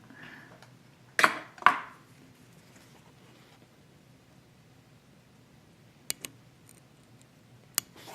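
Two sharp scissor snips close by trimming thread on a fly-tying parachute pattern, then a quiet pause and a few faint clicks and small snips later.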